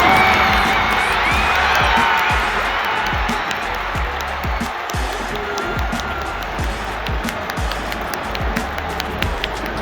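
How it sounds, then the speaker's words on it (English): Home crowd roars and cheers at a Hawks baseball game in Fukuoka, a dense, sustained wall of stadium noise with whoops and clapping, loud throughout. "under the intense cheering from the home crowd, the Hawks scored a walk-off hit"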